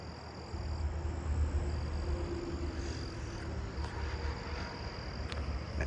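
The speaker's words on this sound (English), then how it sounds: "Oh, I think I'm hearing an eastern striped cricket." An eastern striped cricket trills steadily at night in an outdoor chorus of insects, faint and continuous over a soft background hiss, with no voices.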